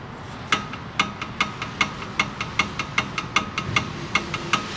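Repeated sharp metallic knocks from a worn car sway bar link in the front suspension, a fairly regular clacking of about three to four hits per second over a low rumble, moderately close and without talk.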